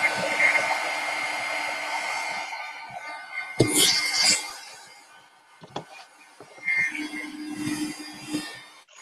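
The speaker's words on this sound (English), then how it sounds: "I'm going to have to dry some of this color up that I like here." Blow dryer drying paint color on an art piece, a steady breathy whoosh close by that fades and returns, with a few clunks and a brief voice partway through.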